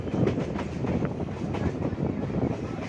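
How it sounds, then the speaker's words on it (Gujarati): A passenger train rumbles and clatters while switching tracks at Dhola Junction, with a steady rolling roar and faint rhythmic wheel clicks under wind buffeting on the microphone. "ટ્રેન આપણી ટ્રેક બદલાવી રહી છે"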